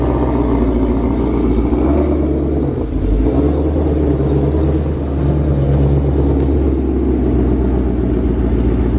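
A 1000hp 2020 Shelby GT500 runs on a dyno, a loud, steady, deep engine rumble held with rough clattering texture, close and continuous with no voices.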